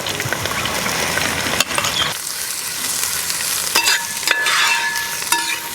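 Sliced onions hit a hot pan of frying garlic with a burst of sizzling, then a spoon scrapes and stirs them in a few sharp knocks over continuous frying noise, close and loud, no speech.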